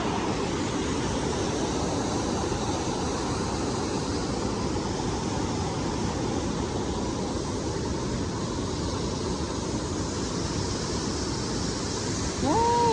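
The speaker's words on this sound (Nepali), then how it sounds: "यहाँ चाहिँ झरना रहेछ" A waterfall at Aina Pahara in Tanahun, Nepal, roars as a steady, broadband rush of falling water, close and constant throughout, with no talk.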